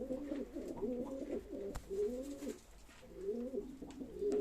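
Pigeons coo repeatedly in low, throaty phrases at close range, a steady run of calls with brief pauses, tied to a live online auction of Turkish play-breed pigeons.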